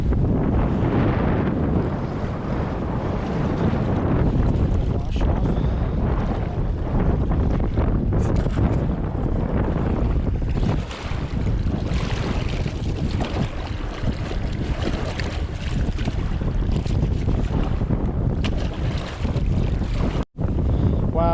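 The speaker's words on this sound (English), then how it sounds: "this is so difficult with the wind" Strong wind buffets the microphone beside a lake, a loud continuous roaring rumble with gusty surges and water lapping beneath, broken by a brief dropout near the end.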